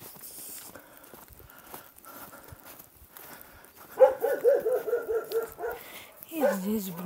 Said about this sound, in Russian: Тоже собака лает.